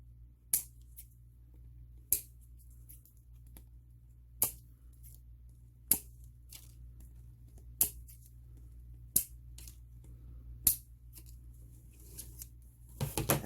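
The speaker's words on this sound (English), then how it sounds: "I cut all the long ends" Scissors cut through the long ends of decorative wreath mesh in a quiet room. Single sharp snips come one at a time, roughly every one and a half seconds, with near-silence between them and a faint low hum underneath.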